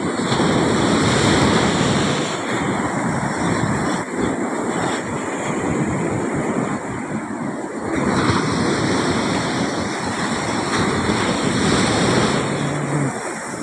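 Sea waves and gusty wind on the shore under darkening skies, a steady loud roar of surf with swelling surges and microphone wind rumble throughout, no talk.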